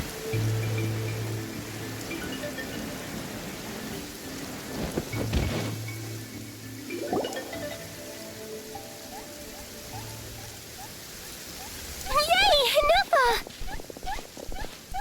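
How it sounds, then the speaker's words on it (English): Heavy rain pours in a stormy scene in Genshin Impact, a steady wash with deep thunder rumbles early on and sharp chirping game effects near the end; no spoken voice is heard. "This heavy rain must be quite an inconvenience for you."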